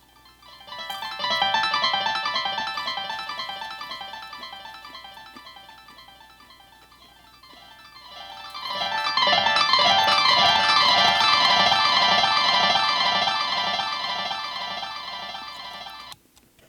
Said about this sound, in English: Dave hooked up his keyboard to his delay pedal, his echo pedal.